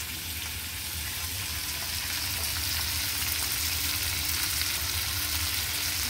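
Food fries in a pan with soy sauce while being stirred, a loud, steady sizzle with faint scraping that continues unbroken and with no talk over it.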